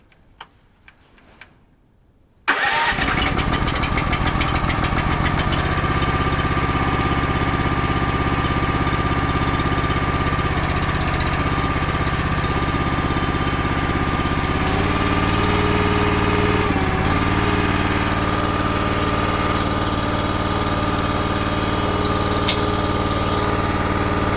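Honda GX240 small engine on full choke: a few faint clicks, then it fires and settles into a loud, steady, close running drone with a rapid ticking beat that continues to the end.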